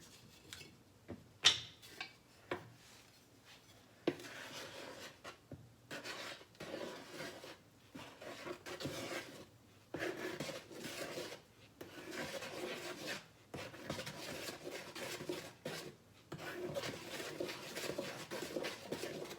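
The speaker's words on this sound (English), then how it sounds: "I'm just going to give that a good stir" Banana bread batter being stirred in a kitchen bowl, a steady scraping and rubbing of the spoon against the bowl in repeated bursts with short pauses, close and fairly quiet.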